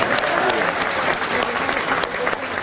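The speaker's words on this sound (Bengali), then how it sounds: "জোরে হাততালি দিয়ে" A crowd at a BNP party membership event in Bangladesh claps loudly and continuously, a dense, steady wash of applause for a few seconds.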